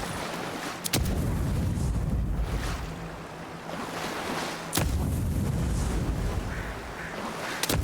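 Two sharp explosion blasts in the video game Avowed, one near one second and another near five, each a sudden crack followed by a heavy low rumble and a long roaring decay, over continuous noisy ambience.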